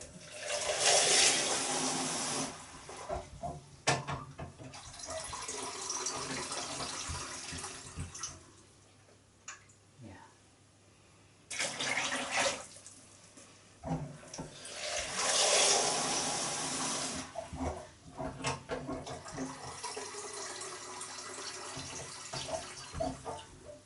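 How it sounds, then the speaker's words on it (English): A tap runs in bursts to fill a container with cold and then hot water for winemaking, steady gushing spells broken by quieter gaps. "we're going to fill it up with half cold water and then fill it up with some hot water"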